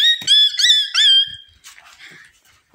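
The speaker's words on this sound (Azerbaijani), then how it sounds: "dostlar, itlər var burada" Dogs at a house give a few high-pitched whines and yelps in quick succession, followed by fainter scattered noises.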